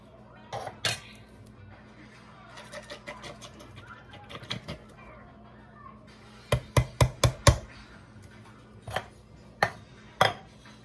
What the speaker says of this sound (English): We're going to stir this in